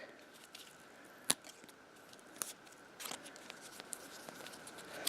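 Scissors snipping the end off a handmade Halloween treat bag, a few sharp, close cuts spread across an otherwise quiet stretch.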